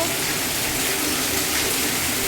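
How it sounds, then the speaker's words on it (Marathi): Heavy rain with wind, a dense, even roar of downpour that runs unbroken through the whole moment with a gushing, watery texture. "बघा बघा बघा बघा किती मोठा आहे पाऊस वारं सुद्धा आहे"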